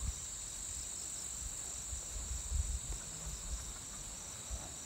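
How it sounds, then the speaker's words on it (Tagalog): Crickets chirp at night in the Bicol countryside, a steady high shrill drone that carries on throughout, with faint low rustles beneath it. "Guni-guni."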